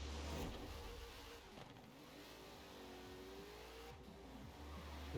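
Buick GSX in the Forza Horizon 4 racing game, its big engine revving and pulling under throttle, a loud sustained mid-pitched roar that rises and falls across the run, with no voice over it.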